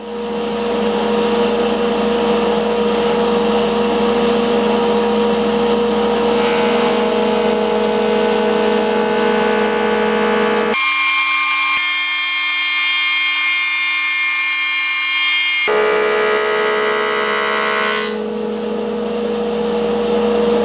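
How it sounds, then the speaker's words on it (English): Wooden boards fed through a power planer for woven cutting boards, a loud sustained motor whine with a sharper cutting passage in the middle, steady and close throughout. "let's put these through the planer"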